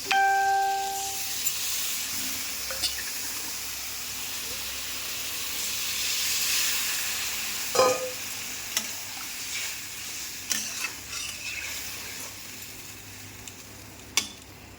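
Okra frying in oil with nigella seeds, salt, chilli and turmeric, a constant soft hiss and sizzle with occasional utensil taps and stirring scrapes, fairly quiet and close.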